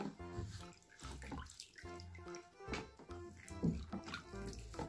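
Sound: water splashing while washing a toy baby doll in a bath

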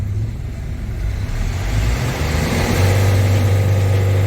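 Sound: car engine revving at full throttle

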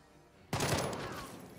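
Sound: burst fire from rifle in video game Jagged Alliance 3

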